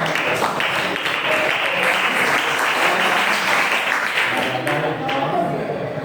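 A classroom of students applauds in a lesson, a full, continuous burst of clapping lasting around six seconds at a steady, fairly loud level.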